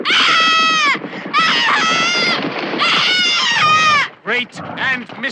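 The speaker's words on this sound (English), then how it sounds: "Scream." Shrill, sustained screams fill a film scene, several long piercing cries close up and loud, followed by shorter choked wails at the end.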